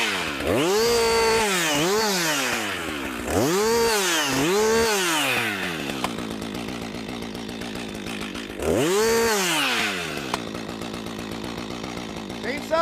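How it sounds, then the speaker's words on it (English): A chainsaw cuts during tree felling, its engine cycling between idle and full bore in repeated loud surges with harmonic sweeps, settling to a steady run between bursts, close by. "Chainsaws have 2 speeds, idle and full bore"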